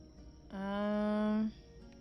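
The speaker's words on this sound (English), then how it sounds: "let's just make a phone call first." Phone call placed in the inKONBINI video game: a single steady electronic tone with rich harmonics, about one second long, rising out of a quiet hum and cutting off cleanly.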